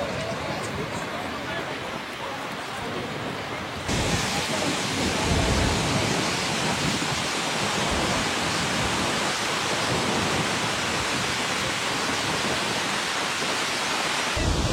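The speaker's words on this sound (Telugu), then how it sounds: "ఇదిగోండి స్కోగా ఫాల్స్" Skógafoss waterfall in Iceland pours down as a loud, constant broadband roar nearby, growing fuller and stronger a few seconds in.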